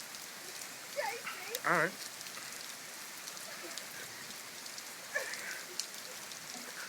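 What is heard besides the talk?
rain falling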